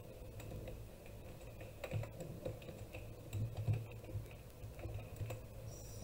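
HTML code being typed on a computer keyboard: soft, quick key taps in an uneven, continuous patter, faint against a low background hum.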